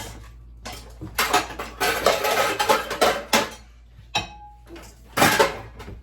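Metal pans and utensils clatter and scrape in bursts in a kitchen while a dirty pan is handled and wiped out before frying onions and celery in butter for stuffing, close and fairly loud with short pauses.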